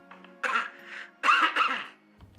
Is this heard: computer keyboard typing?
no